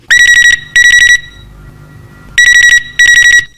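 A telephone rings loudly and up close for a listener's call to a Hindi film-song request show on Chhattisgarh radio, two pairs of sharp electronic trill bursts separated by a short quiet gap, with no voices.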